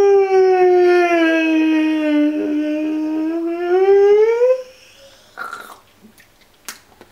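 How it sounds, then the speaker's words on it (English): A dog gives one long, drawn-out voiced yawn that sinks and then rises in pitch for about four seconds, followed by a few soft mouth clicks and smacks. "No, Geraldine, that was a yawn."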